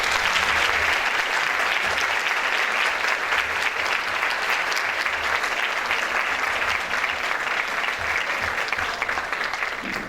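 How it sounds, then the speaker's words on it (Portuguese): A parish audience at an evening talk gives a long, loud round of applause to welcome a visiting priest. The clapping stays dense and even for about ten seconds, with no voices over it. "Uma salva de palmas."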